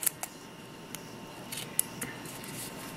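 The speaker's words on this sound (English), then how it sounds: "Cut off my excess because I don't need that little piece hanging over of tape." A few quiet, sparse snips of scissors trimming a small overhanging piece of excess tape, isolated clicks in a hushed room.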